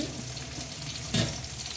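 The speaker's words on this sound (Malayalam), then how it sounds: "ഇനി ആവശ്യത്തിന് വെള്ളം ഒഴിച്ച്" Water splashes into a simmering tomato curry in a pan, a short burst of splashing hiss rising over a quiet background sizzle, then settling back down.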